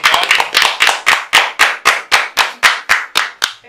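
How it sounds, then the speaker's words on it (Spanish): Applause from a studio audience welcoming guests on a Spanish-language talk show: around a dozen sharp, rhythmic hand claps in a steady beat, loud and close, with no voices over them. "un aplauso para los muchachos"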